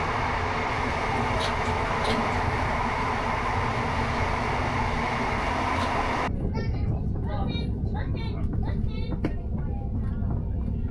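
A train rumbles loudly into Manchester Airport station, then the noise drops away abruptly to a quieter interior where indistinct voices can be heard.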